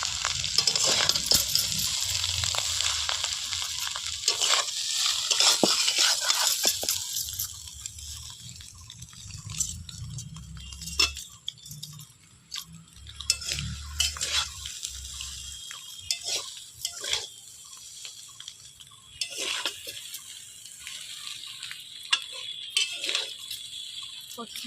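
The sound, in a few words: stirring chow mein in a pan with a spatula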